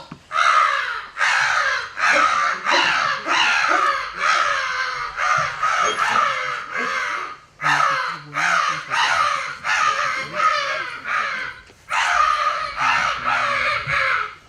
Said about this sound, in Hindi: नकबेसर लेकर उड़ भागने वाला कागा अचानक अमंगल की आशंका में अशुभ और डरावनी भाषा में बोला